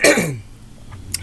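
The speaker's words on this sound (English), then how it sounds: "I got horrible cough still left from being sick" A person still recovering from illness gives one harsh, throaty cough, close and loud, that fades quickly into quiet breathing.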